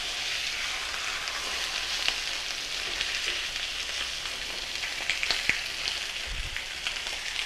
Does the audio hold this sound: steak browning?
yes